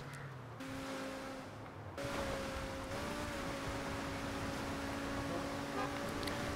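A fully upgraded Progen T20 supercar in GTA 5 Online drives fast, its engine a steady droning whine under a continuous rush of road and wind noise, with a brief lull before the drone rises again.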